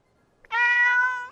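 A cat gives a single loud, drawn-out meow lasting under a second, clear and close with nothing else heard, after a tiny soft sound just before it.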